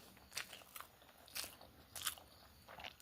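Raw onion bitten and chewed during a home meal of hot potato curry with rice and greens: several crisp, close crunches spaced irregularly, fairly faint, with no talk.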